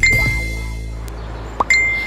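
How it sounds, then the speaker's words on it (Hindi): A phone message notification sounds in a parked car: a clear electronic tone at the start, a brief click, then the same steady beep returning near the end. "तभी उसके फोन पर एक बीप की आवाज हुई।"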